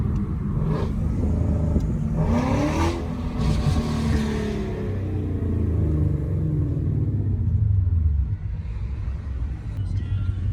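A Mustang-style car with a VMP 93 tune, Texas Speed long tube headers and full exhaust rumbles and revs close by, then crackles and pops as it settles, with people talking over it.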